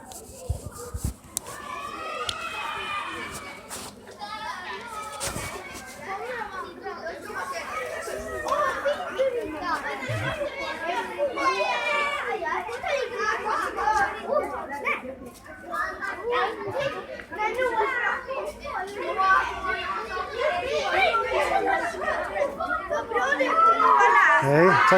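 A crowd of young children chatters, shouts and laughs continuously at moderate distance, their voices overlapping and growing a bit louder as they approach.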